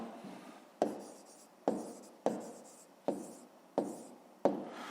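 Pen or pencil strokes are heard writing down an answer to a fifth-grade math exercise, close and clear, in a series of about seven scratching strokes that each start sharply and fade, with no talking.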